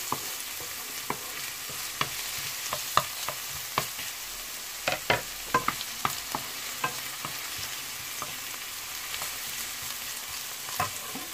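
Ginger fries and sizzles steadily in a pan for pork and chicken adobo, with repeated clicks and scrapes of stirring throughout and no talking.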